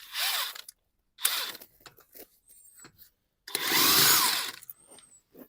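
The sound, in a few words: impact gun removing nuts on Mercedes GLE brake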